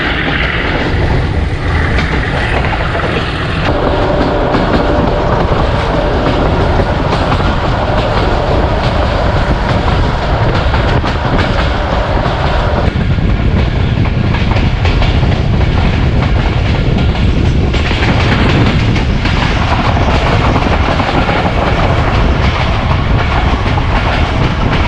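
Thall Express train rolling through the washing line at Rawalpindi railway station, a loud, steady rumble with continuous clickety-clack of wheels over rail joints, close by and with no talk.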